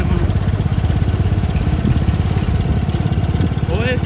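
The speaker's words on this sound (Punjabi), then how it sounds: "ਐ ਸਵਾਦ ਆ ਜਾਂਦਾ ਟਰੈਕਟਰ ਚਲਾਉਣ ਦਾ ਵੀ ਇੰਨੇ ਵਜਨ ਤੇ ਨਜ਼ਾਰੇ ਬੰਨ ਦਿੰਦਾ ਟਰੈਕਟਰ" A heavily loaded tractor's engine runs with a steady low throbbing chug close by, a constant pulsing drone throughout.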